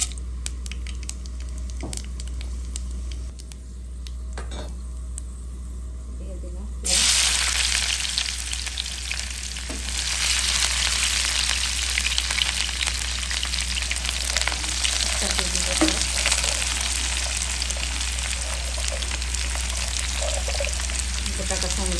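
Panch phoron and dried chillies hit hot oil and burst into a loud, steady sizzle that carries on without a break after a quieter start, with occasional stirring clatter, cooking for a sweet pumpkin bhaji.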